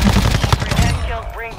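Rapid automatic gunfire from a weapon in the shooter Warzone 2, loud and close, a dense burst of shots through the first second before trailing off into game noise.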